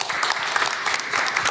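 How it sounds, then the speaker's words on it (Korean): Sustained applause from a seminar audience following an academic presentation, a dense steady patter of many hands clapping without pause, moderately loud throughout. "발표에 수고해 주신 조성 박사님께 다시 한번 큰 박수 부탁드리겠습니다"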